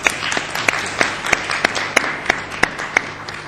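A conference audience applauds the speakers at the end of a session with rhythmic, fairly sparse clapping that sounds like a modest crowd in a hall, close and steady for a few seconds.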